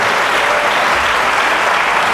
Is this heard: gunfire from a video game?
no